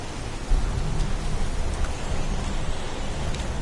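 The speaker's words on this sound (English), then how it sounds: "It's pouring rain." Rain pours steadily in the video game Heavy Rain, a dense, constant hiss of a downpour with a faint rumble beneath. There is no talk.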